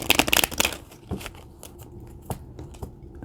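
Kipper fortune-telling cards being shuffled by hand, a quick flurry of papery riffling and slaps up front, then scattered softer card taps and rustles, fairly close.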